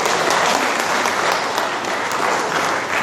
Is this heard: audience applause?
yes